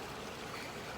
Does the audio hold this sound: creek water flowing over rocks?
yes